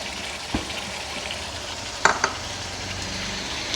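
Browned onions, three of them, tipped into a simmering chicken gravy and stirred through, giving a soft steady sizzle with a few sharp scraping clinks of a spoon against the pot.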